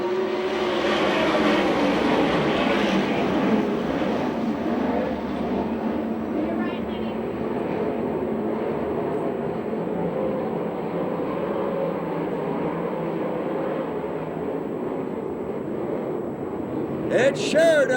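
Sprint car engines roar together at the green flag of a USAC/CRA race in Phoenix, a loud, dense, continuous drone heard from a distance while a commentator talks over it.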